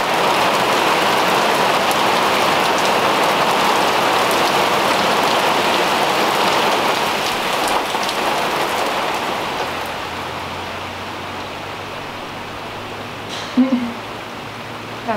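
Rain falling outdoors in North Carolina makes a steady, dense hiss that slowly eases off, with a short clatter near the end.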